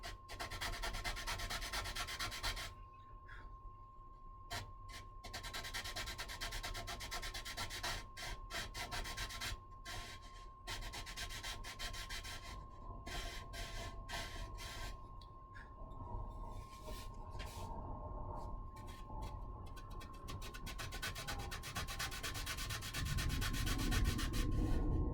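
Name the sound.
sanding hinge pockets in wood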